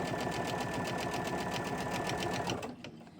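A sewing machine stitching felt runs at a steady, fast rhythmic whir with a clear repeating needle beat, close and continuous, then winds down and stops near the end.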